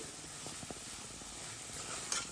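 A spoon stirs chilli powder, salt, coriander powder and garam masala into a pumpkin curry in a pan, quiet scraping taps over a faint steady sizzle, close and soft with no talking.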